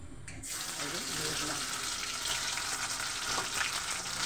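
Kharkol leaf paste sizzles and fries in hot oil with nigella seeds, a steady loud hiss that starts abruptly and runs continuously.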